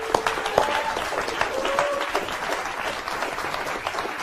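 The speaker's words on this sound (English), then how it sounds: "Give him a big round of applause." An audience gives a round of applause as a volunteer named Lucas is called up on stage, steady dense clapping from a crowd, moderately distant and sustained without talk.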